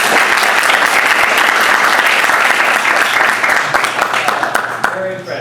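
Sustained audience applause for a panel at a 2019 debate, steady dense clapping filling the room before fading out near the end.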